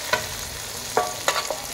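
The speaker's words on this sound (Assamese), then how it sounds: "প্ৰথমতে পিঁয়াজখিনি অলপ ভাজি লোৱা হ'ল" Onions fry in a pan, stirred with a few distinct scraping strokes over a soft, steady background sizzle.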